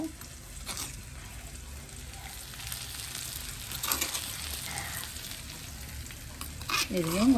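Ingredients sauté for a chicken curry with a continuous close sizzle and occasional stirring sounds from the pan. A faint voice comes in briefly near the end.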